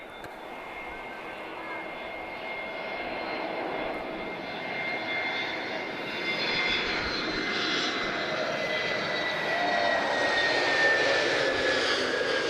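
A TAP airliner in Retrojet livery at Lisbon Airport makes a steady jet engine roar that swells gradually at moderate distance, with faint background noise and no clear talk.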